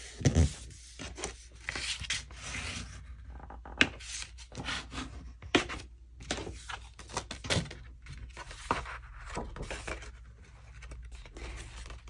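Junk journal paper being folded in half by hand, a run of close crisp rubbing, creasing and rustling strokes with brief sharp crackles, fairly quiet and continuous over about twelve seconds with no talking.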